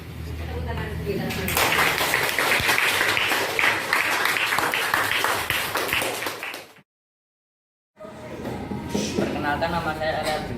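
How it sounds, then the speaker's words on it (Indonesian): Classroom applause from students at a junior high school in Turen fills the room in dense, steady clapping with voices mixed in, breaks off for about a second of silence, then resumes just as full. "Tepuk tangan kita."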